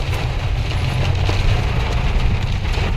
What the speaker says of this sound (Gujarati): તમે જોઈ શકો છો વરસાદ તો બંધ થવાનું નામ જ આજે તો લેતું નહીં